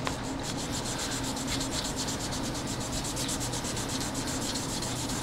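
A 7.3 PSD Powerstroke injector shim, wiped clean of oil, is filed down with steady, continuous rasping strokes, a close, even scraping that runs the whole time with no talking.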